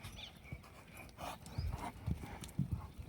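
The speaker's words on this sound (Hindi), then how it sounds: "बढ़िया दौड़ती है घोड़ी।" A mare runs, her hooves clip-clopping in uneven beats on the ground, faint and somewhat distant, with a few louder thuds toward the end.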